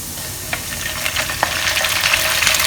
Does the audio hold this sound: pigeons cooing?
no